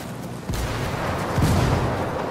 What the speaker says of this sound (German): Und die Autos oder die Fahrzeuge explodieren hier auch noch ständig